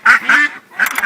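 Several ducks quack loudly and close by in bursts, with chickens kept alongside, two clustered calls then a brief pause before another run of quacks.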